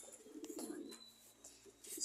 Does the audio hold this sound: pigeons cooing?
yes